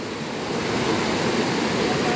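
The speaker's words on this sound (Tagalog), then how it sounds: "Malakas yung agos niya, yung current niya kasi ilang araw nag-uulan" A strong river current swollen by days of rain roars steadily and loudly, a dense, unbroken wash of noise with no pauses.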